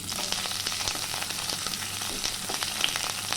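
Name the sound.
chopped onion frying in hot oil in a kadai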